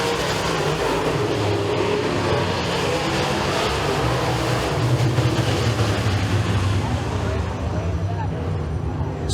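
UMP Modified race cars roar around the track in a heat race at Eriez Speedway, a continuous dense engine drone heard from a distance beneath constant announcer commentary.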